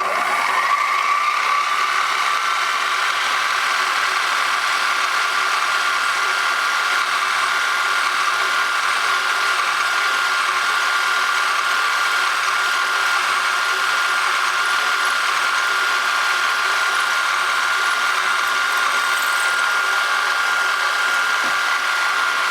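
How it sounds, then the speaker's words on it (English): A steady, continuous mechanical whir with a high ringing tone, a drill boring a 3/16 hole into a metal part for a miniature petrol engine, holding evenly throughout with no voices. "all I'm going to do at the moment is drill the 3/16 hole in the centre"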